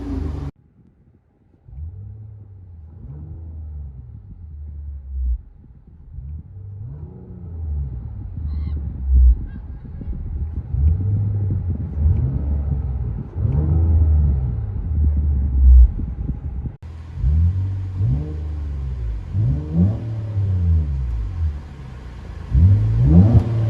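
Engine and exhaust rumble of a Nissan Maxima 3.5L V6 with a Motordyne cat-back exhaust, heard from inside the car, revving up repeatedly in rising sweeps and dropping back, a deep droning growl throughout.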